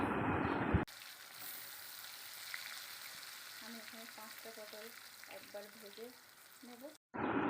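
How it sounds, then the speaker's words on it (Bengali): Salted, turmeric-coated pointed gourd slices fry in hot oil in a wok, a steady close sizzle with a soft voice speaking partway through. "কড়াইতে তেল গরম হয়ে গেলে এবার নুন হলুদ মাখিয়ে রাখা পটলগুলো একটা একটা করে কড়াইতে"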